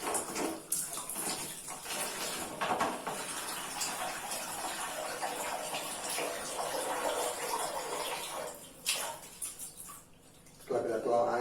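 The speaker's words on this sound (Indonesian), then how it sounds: "Setelah kita tuang air, lalu kita kucek-kucek lagi sampai merata" Water poured into an empty soap refill pouch and swished around, a close sloshing, gurgling rush with soft plastic crinkles, briefly pausing near the end.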